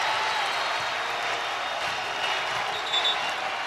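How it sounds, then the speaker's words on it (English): A basketball arena crowd at Nebraska vs Creighton in 2024 roars after a three-pointer, a dense, steady wall of cheering and applause that holds loud for the whole stretch. "Here comes the crowd."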